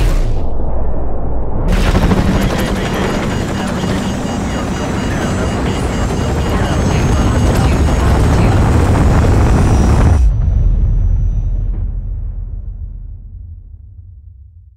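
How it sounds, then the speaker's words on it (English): An incoming missile strike in Call of Duty, a sudden massive roaring blast that holds loud and dense for about eight seconds, then cuts out and leaves a fading rumble. "Incoming missile."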